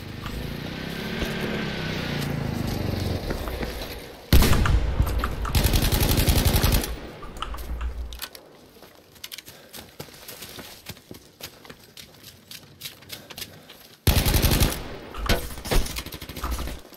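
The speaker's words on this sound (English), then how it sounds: "He definitely shot me with something" Rapid bursts of gunfire ring out in a Fortnite Firestorm solo match on PC, two loud dense volleys separated by quieter stretches of scattered clicks and footsteps.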